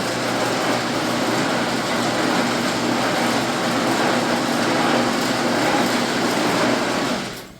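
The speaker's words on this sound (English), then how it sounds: "What that's doing is just agitating it and mixing it up." A paint-shop machine agitating and mixing cans of paint pearls: a loud, steady mechanical rumble and whir, close by and unbroken, that cuts out abruptly at the very end.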